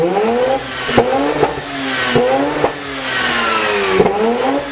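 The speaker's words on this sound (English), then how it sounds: "I'm talking about Mazda RX8 with its famous rotary engine" A Mazda RX8 rotary engine revs repeatedly with rising and falling pitch, loud and close, in several quick pulls with brief shifts between them.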